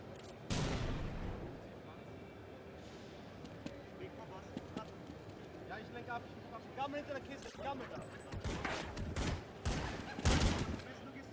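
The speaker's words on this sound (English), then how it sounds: "Tixo does deliver the frag onto Emelik, who now is relegated to sitting and watching as Capio comes in with 1, 2, 3" Rapid gunfire and bursts from a Counter-Strike 1.6 professional match at IEM 2008 Global Challenge Dubai, scattered volleys and louder clusters toward the end, under continuous energetic commentary.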